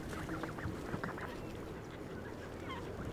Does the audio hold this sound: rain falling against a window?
no